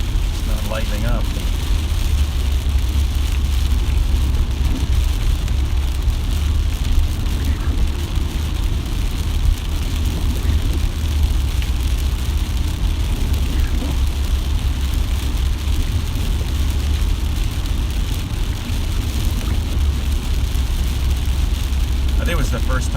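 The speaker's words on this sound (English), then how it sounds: "it certainly feels like I'm dragging the rain with me. It's not lightening up." Steady roar of a car driving through heavy rain on a drive to Piscataway, New Jersey, with constant road and rain noise and a few faint ticks, alone without talk.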